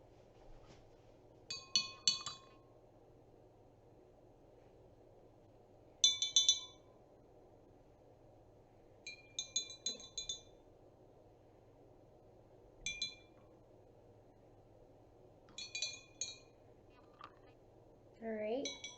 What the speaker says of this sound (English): I'm going to grab a spoon and just stir this up a little bit.